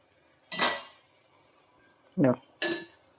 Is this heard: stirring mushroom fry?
yes